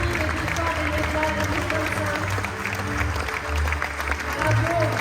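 Audience applause at the Victoires des Médias awards ceremony in 2025 for a Grand Prix winner, a dense steady wash of clapping with a low hum and bursts of music beneath, sustained throughout.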